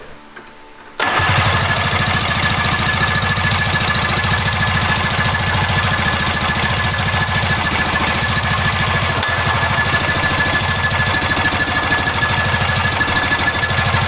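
A snowmobile left abandoned for about 20 years is cranked by its electric starter: a loud, steady, unbroken churning drone starts abruptly after a second of quiet and runs on without catching or revving.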